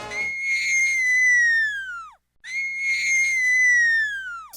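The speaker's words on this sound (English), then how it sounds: "guess again, it's a deflating balloon" A deflating balloon lets out two long, loud, whistling squeals, each a steady high tone that slides downward as the air runs out, with a brief silence between them.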